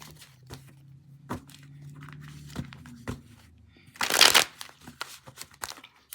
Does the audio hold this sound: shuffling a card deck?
yes